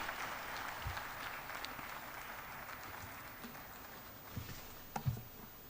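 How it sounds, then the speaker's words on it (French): Audience at the OIDP Cocody 2021 conference applauds, a steady patter of clapping filling the room at moderate volume, with a few louder claps and thumps near the end. "Conférence, sous vos applaudissements."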